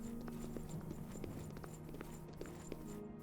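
Horse hooves clip-clop at a steady walking pace in the Oblivion game, outside the town of Anvil near white stallions, with a constant hum of background music running underneath.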